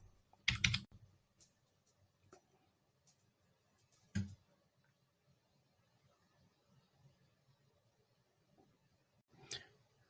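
Typing on a computer keyboard, a few quiet scattered bursts of clicking keys separated by long pauses, close but faint in a still room.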